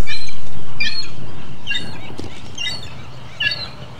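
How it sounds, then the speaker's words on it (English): Seagulls call repeatedly at Alcatraz, a series of short, bright squawking cries spaced about a second apart over a low outdoor rumble, fairly close and alone without talk. "like an angry seagull."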